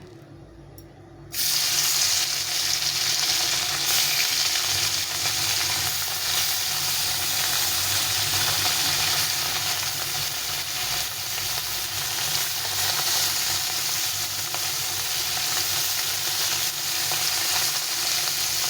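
Small river fish hit hot oil and break into a loud, steady sizzle that holds broadband and even for most of the stretch, with occasional stirring and no voices.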